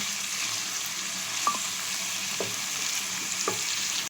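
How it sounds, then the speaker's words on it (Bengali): Vegetables fry in hot oil with a steady, bright sizzle and a few light utensil taps, and no voices. "তেলটা একটু গরম হয়ে যাক তারপর আমি সবজিগুলো দেব দেখো সবজিগুলো দিয়ে দিয়েছে"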